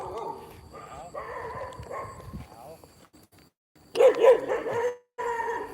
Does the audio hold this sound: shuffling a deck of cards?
no